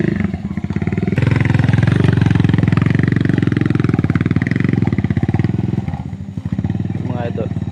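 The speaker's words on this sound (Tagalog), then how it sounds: "hirap yung motor, hindi talaga makakadaan ng maayos dyan." A motorcycle labours up a rough mountain road, its engine chugging loud and close with a heavy, fast pulsing rhythm that holds steady for several seconds, while someone talks over it.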